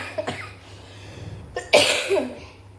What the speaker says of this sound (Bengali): আমারও কিন্তু কাশি আছে